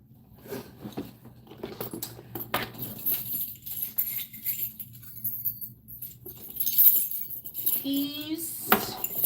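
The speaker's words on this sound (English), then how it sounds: "There are my keys." Keys jangling and clinking inside a small Dooney & Bourke Alto leather handbag, scattered metallic clinks and rustles through the clip with a few brief spoken bits mixed in.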